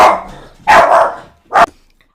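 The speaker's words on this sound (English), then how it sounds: "that's my little dog barking at someone in the front" A small dog barks at someone at the front of the house, three loud, close, sharp barks, the second longer and drawn out, with short silences between them.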